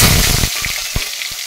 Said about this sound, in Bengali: ভাজা হয়ে গেছে, দিয়ে দেবো একটা মাঝারি সাইজের টমেটো।